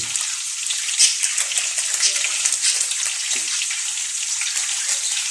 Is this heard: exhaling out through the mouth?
no